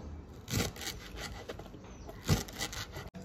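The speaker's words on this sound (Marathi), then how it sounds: "सो आता इथे कोथिंबीर चिरून घेतोय" A knife chops freshly washed coriander on a board, with two firmer cuts among softer scraping strokes, close and quiet with no talking.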